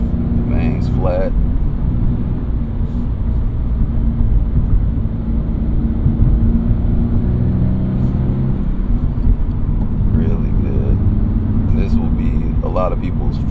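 A Toyota GR86 with a manual gearbox cruises and downshifts, its engine a steady loud rumbling drone inside the cabin. Someone talks over it throughout.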